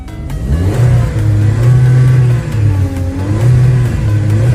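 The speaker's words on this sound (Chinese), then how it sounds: "发动机运转的特别平稳" A car engine runs smoothly right after starting on poor-quality refuelled petrol, a steady close rumble with rising and falling revs, loud and alone.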